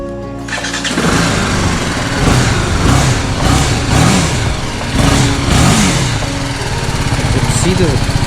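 A BMW G310 GS single-cylinder motorcycle cranks and fires up close by, then settles into a loud, throbbing idle with a few short revs, just after an air filter replacement.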